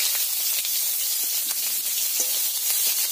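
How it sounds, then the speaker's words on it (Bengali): Chopped onion frying in hot mustard oil gives a steady, bright sizzle and hiss throughout, with faint stirring scrapes in the pan and no talking. "পেঁয়াজ কুচি দিয়ে ভালো করে নেড়ে চেড়ে ভেজে নেব।"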